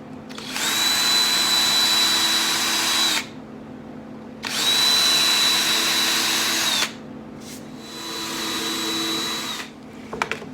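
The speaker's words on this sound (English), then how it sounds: "pilot holes are drilled for all brackets" A power drill boring pilot holes for brackets in chipboard during sideboard assembly: three loud, steady whining bursts of several seconds each, separated by short pauses, close up with no talk.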